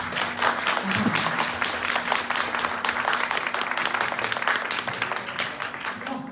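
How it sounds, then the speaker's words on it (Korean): An audience at a book launch event gives a long, loud round of applause for three speakers, dense clapping with a steady low hum running beneath. "세 분께 큰 박수 감사합니다."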